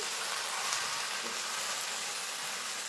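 Jaggery melting and coming to a boil in a pan for a sweet-sour plum (kul) pickle gives off a steady, close, dense hissing sizzle that runs unbroken with no talk.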